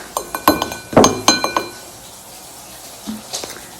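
A small wine glass clinks sharply as it is handled on a hard surface, several bright taps close together, then a quiet pause and a couple of fainter clinks.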